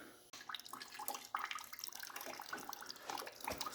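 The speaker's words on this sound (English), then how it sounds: "So we got some stuff draining." Liquid trickles and splashes as fluid drains from a damaged boosted car engine with a catastrophic valve failure, a faint irregular pouring with small drips, no talking.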